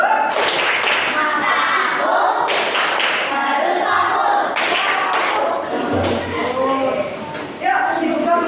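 A classroom of children performs a rhythmic clap-along routine, with bursts of group clapping and slapping mixed with chanted voices and a teacher speaking, loud and close throughout.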